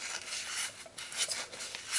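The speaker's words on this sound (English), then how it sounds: "Real quick, I'm just honing my chisel." Steel wood chisel being honed, a dry rasping rub of short back-and-forth strokes against a sharpening surface, close and fairly quiet with no talk.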